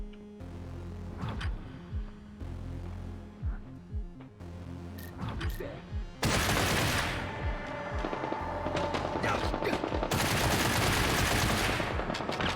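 Gunfire in the video game Get Even: scattered single shots and short bursts early on, then dense continuous automatic fire and booming impacts that fill the second half, loud and close.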